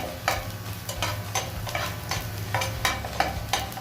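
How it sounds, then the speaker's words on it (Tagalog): Onion and garlic frying in a pan for a chicken and asparagus dish, stirred with a utensil: a steady sizzle under rhythmic scraping strokes about every half second, close and moderately loud. "Then tuloy lang natin ang pag-mix mga guys hanggang sa lumabas ang kanyang aroma at mag-golden brown ating onion and garlic"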